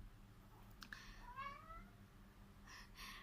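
A domestic cat meows and grumbles nearby: a rising complaining meow in the middle stands out against soft rustling and faint background noise.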